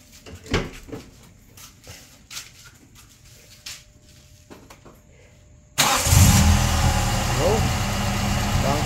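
A 33-year-old Toyota AE92 Corolla, just given a top overhaul for overheating with a new head gasket, radiator and hoses, cranks and catches partway through. It settles into a loud, steady idle after earlier scattered clicks and clanks.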